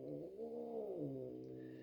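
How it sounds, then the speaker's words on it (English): A newly adopted house cat gives a single drawn-out meow, close and fairly soft, rising and then falling in pitch. "that's my new cat"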